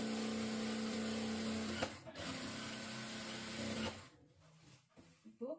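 A sewing machine runs steadily, stitching saree cloth into an umbrella dress, then stops after about four seconds, followed by a few scattered handling clicks and bumps.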